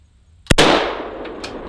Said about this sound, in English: So here we go with the AK-47.